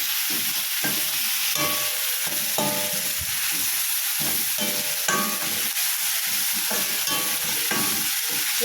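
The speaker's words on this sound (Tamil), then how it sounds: "இதை நல்லா இஞ்சி பூண்டு பேஸ்ட் வாசனை போகிற அளவுக்கு நம்ம வதக்கலாம்" Onions and ginger garlic paste sauté in a pan for a roadside-stall salna, with a constant bright sizzle under rhythmic spatula scrapes and clinks every second or so, close and even, with no voices.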